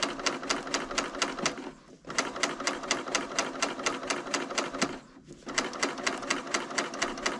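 A Bernina serger stitching a crochet-style edge on a piped pot holder, running in fast rhythmic bursts with a steady mechanical chatter, pausing briefly twice, loud and close.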